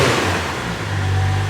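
A Toyota JZX90 engine revving while in drive, a steady loud mechanical drone with a low hum that holds and rises slightly, close by with no voices.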